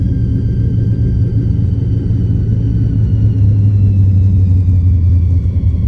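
A car engine with gear-driven timing gives a thin, steady whine that slowly falls in pitch above a loud, continuous low rumble, close by with no talking.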